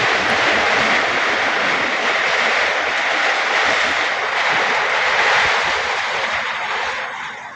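Heavy rain pours steadily onto an old, loosening roof, a dense, loud, continuous hiss and roar that holds throughout and eases slightly at the very end.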